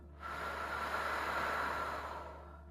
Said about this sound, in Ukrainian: Робимо глибокий вдих, видих